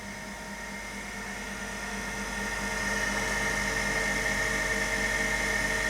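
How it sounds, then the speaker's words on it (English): The spindle of a Tru Tech TT-8000 CNC centerless profile grinder runs with a steady, dense mechanical whine and hum that rises gradually in level as it spins up, with no talking. "And that'll power up the spindle here."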